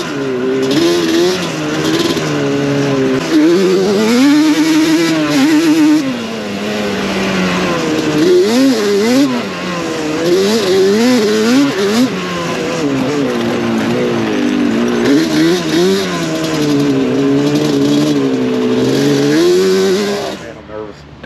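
Yamaha Banshee 421 ATV ridden on sandy trails, its two-stroke engine revving loudly and continuously up and down through the gears, close and dominant throughout, with brief voices underneath.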